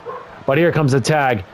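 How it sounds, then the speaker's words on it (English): Real dogs bark and yip in quick bursts, sounding close and loud, while someone speaks over them during commentary on a wrestling video game. "I apologize about the dogs barking in the background if you can hear it"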